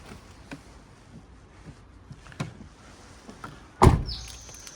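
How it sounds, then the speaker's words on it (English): Trunk lid on a Honda Civic Type R slammed shut once near the end, a sharp close thud after a few faint clicks and handling noises in an otherwise quiet setting. "Let's do a trunk close as well here."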